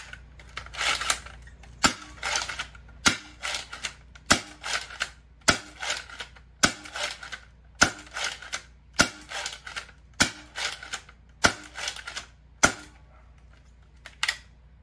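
A 3D printed SLAB half dart lever action Nerf blaster fires a steady run of about a dozen sharp, evenly spaced shots, each a snappy pop with a mechanical clack, loud and close.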